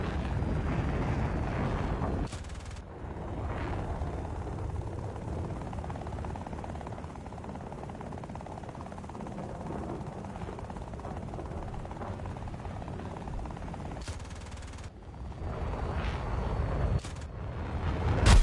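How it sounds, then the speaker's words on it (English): Small helicopter in the combat game War Thunder: a continuous rotor thrum and engine whine throughout, with sharp cuts and a swelling surge near the end, no talk. "I am a helicopter, and I'm a tiny helicopter with not enough power"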